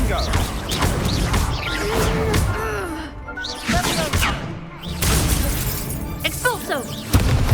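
Blasts and crashes from the fiery Confringo spell in the Hogwarts Legacy video game, several impacts over game music and a shouting voice, with a loud final hit near the end.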